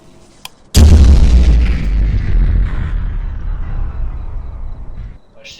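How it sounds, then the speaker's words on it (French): A sudden loud explosion in a Roblox horror video game, a sharp boom followed by a long rumbling decay that fades away over several seconds. "C'est une explosion nucléaire ou j'ai réparé le coup?"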